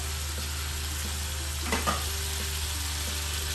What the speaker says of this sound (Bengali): চুলাটা বাড়িয়ে সাথে এই যে টমেটো কুচি এটা দিলাম, আর মাছগুলো দিয়ে দিলাম ভিউয়ার্স